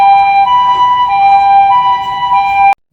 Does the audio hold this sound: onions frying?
no